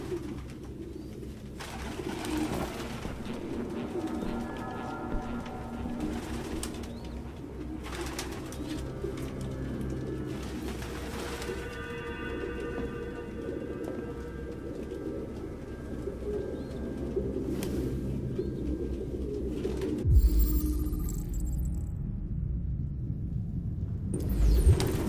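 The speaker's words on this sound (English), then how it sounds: "No human could live with all these fucking pigeons." Pigeons cooing inside an apartment in Detroit: Become Human, soft repeated throaty coos from several birds over a low ambient hum, with brief rustles and a louder rumble near the end.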